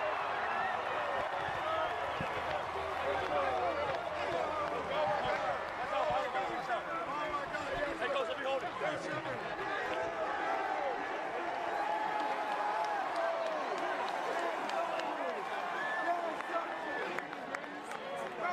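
A stadium crowd at a high school football state championship trophy presentation keeps up steady applause and cheering throughout, a dense, sustained wash of clapping with an announcer's voice over it.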